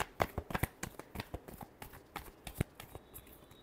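Tarot cards being shuffled by hand, a quick series of soft papery riffles and slaps in an irregular rhythm, close and fairly quiet, with no talking.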